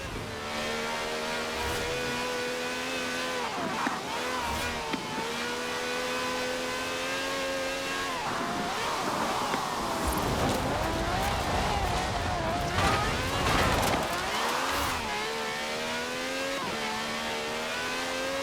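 A V12 wide-body cab with over 750 horsepower, driven in the racing game Forza Horizon 4, holds a loud steady engine drone that climbs and dips through gear changes, with revving surges and a brief tire squeal midway.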